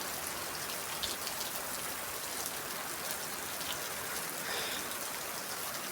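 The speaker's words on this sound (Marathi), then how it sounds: "तुमच्याकडे पण जर पाऊस पडत असेल तर कमेंटमध्ये जरूर सांगा" Rain patters continuously, a close, even hiss of drops on surfaces with no voices.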